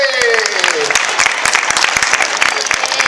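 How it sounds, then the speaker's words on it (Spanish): A small group claps loudly and close by at the Expojove fair in Valencia, a lively patter of individual claps lasting throughout, with a voice briefly heard at the start. "lo vamos a despedir con un aplauso"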